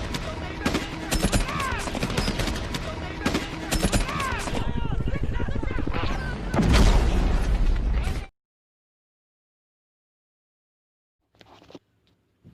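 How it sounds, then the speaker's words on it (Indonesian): Dense bursts of gunfire and explosions from a war film battle in which Taliban fighters and villagers exchange fire, loud and continuous for about eight seconds, then sudden silence broken by a brief faint sound near the end. "Markus dan para penduduk desa melawan dengan menembak pasukan Taliban."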